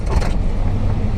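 A car engine turns over again after dying while driving, giving a short, close, low rumble that settles into an idle.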